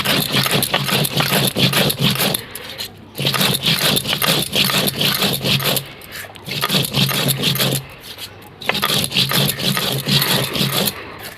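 Whole spices ground by hand on a sil grinding stone for a koi fish dish, a loud repeated rasping scrape in four long bursts separated by brief pauses, close and without talk.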